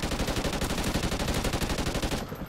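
Rapid automatic SA-805 rifle fire in a Call of Duty Ghosts Team Deathmatch, a dense, steady stream of loud close-up shots that cuts off abruptly near the end.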